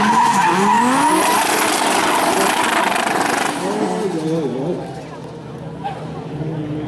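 Race car engines at a motor racing event in Vikersund, loud high-pitched roaring with rising and falling revs and tire squeal close by, then fading into a quieter, more distant engine drone.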